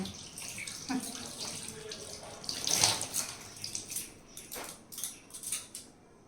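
Three kinds of fish, including katla, washed under a running tap, the water pouring steadily with irregular splashes and clatters as the pieces are rinsed, fairly quiet and close.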